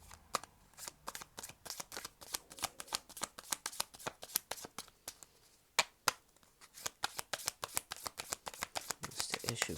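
A deck of tarot cards is shuffled repeatedly up close, producing quick crisp riffling bursts and slaps in an irregular rhythm, fairly quiet and with no talk.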